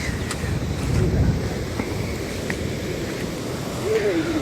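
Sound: flooded river rushing water

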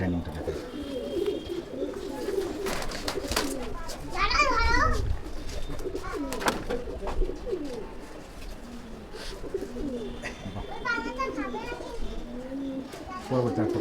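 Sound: pigeons cooing

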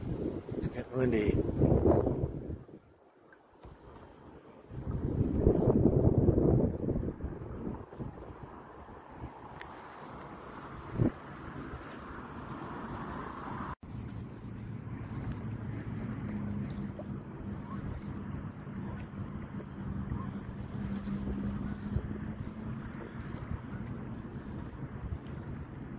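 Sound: wind blowing

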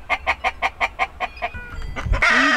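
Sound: chickens clucking

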